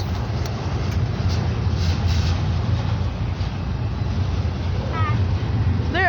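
A freight train rolls past close by in Bellwood, Illinois, its cars giving a steady low rumble and rattle with light metallic clanks. A short wavering squeal rises near the end.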